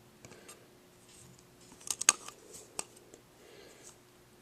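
Small snips and clicks come from a tool trimming away a window cut into a hard drive casing. The cuts are faint and scattered, with a few sharper clicks bunched in the middle.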